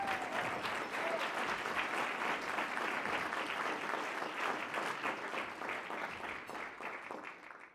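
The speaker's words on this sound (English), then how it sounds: "Give her an applause." Audience applause at a celebration gala, dense and even clapping from a crowd that holds steady and then tapers toward the end, with no talk over it.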